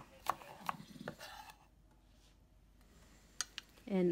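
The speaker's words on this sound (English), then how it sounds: "we need to slice the spring green onion" A knife slices spring green onion in a home kitchen, making a few crisp, quiet cuts in two small clusters separated by a hushed pause.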